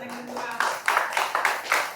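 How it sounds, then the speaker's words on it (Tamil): Sparse clapping from a small audience of around ten people at a Tamil storytelling gathering, several distinct hand claps at an uneven pace under a faint murmur, fairly close and moderately loud. "கைத்தட்டின 10 பேருக்கு ரொம்ப நன்றி"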